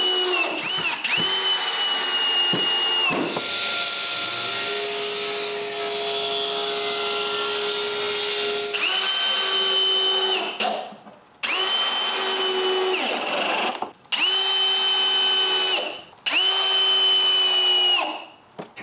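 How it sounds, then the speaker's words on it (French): A power drill drives screws into the wood of a homemade chainsaw mill carriage, several loud whining runs that rise and cut off with short gaps between them, close up and without speech. "Comme c'est le cas, je visse aussi le haut."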